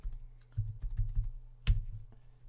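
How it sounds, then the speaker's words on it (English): Quiet, close keystrokes on a computer keyboard, a short burst of uneven taps with one sharper clack near the end, with no talking. "I'm going to again type social in here"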